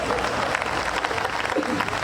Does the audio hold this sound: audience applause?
yes